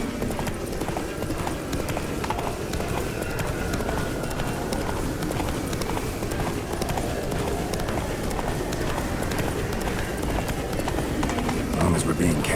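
Roach the horse gallops at full speed in The Witcher 3, a steady rapid clip-clop of hooves running the whole way beneath game music, with people talking over it.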